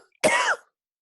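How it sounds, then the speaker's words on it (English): A single short, harsh cough, loud and close, stands out against near silence in an otherwise quiet conversation setting. "I've had this cough a very, very long time, like nearly 40 years"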